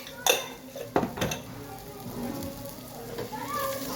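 Sautéed onions with turmeric and salt are stirred in a pan, giving scraping utensil clinks over a steady, rain-like sizzle of oil. A few sharp taps come early, then the frying hiss continues close and steady.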